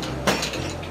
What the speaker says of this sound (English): we want to do is strain it onto some new ice in an old-fashioned glass.